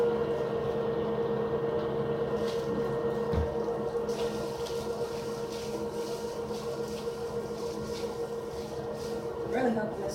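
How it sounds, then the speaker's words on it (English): A steady electric fan whirs and hums continuously in a room, a constant broadband drone that stays level throughout with faint rustling and small knocks over it. "Sorry about the fan noise."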